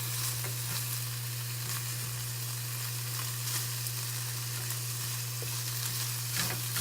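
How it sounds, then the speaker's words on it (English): Broccoli sizzles steadily in a hot pan while a spoon stirs it now and then, the frying hiss continuous and close under a steady low hum, with no talking. "I'm going to stir this broccoli"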